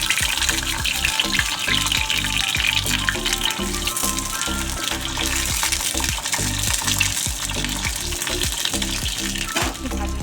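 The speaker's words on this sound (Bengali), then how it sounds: "তেলটা গরম হয়ে গেলে কালো জিরে দেব, দিয়ে আমি বেগুনটা দিয়ে দেব।" Eggplant fries in hot oil with nigella seeds, a loud, continuous crackling sizzle with close bubbling that holds steady throughout without talk.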